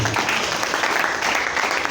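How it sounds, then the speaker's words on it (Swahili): A church congregation claps steadily in a dense, even burst of applause that fills the room throughout. "Put your hands together for Jesus."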